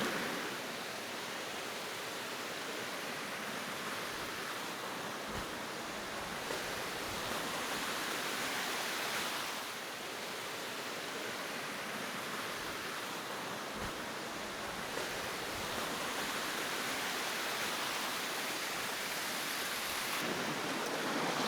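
Till Creek Falls on the Lake Superior shore gives a steady, broad rush of falling water, loud and continuous with no voices, only slight shifts in intensity.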